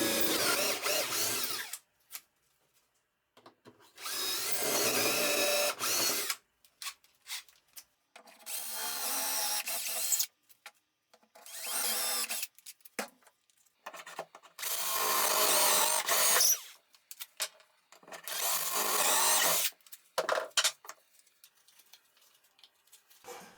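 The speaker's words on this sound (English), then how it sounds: "like this I can drill the dowel holes in the exact place they have to be" A power drill bores dowel holes in wood with the help of a homemade doweling jig, making repeated loud, close whining bursts separated by short quiet pauses.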